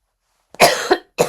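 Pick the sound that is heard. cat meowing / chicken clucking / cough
cough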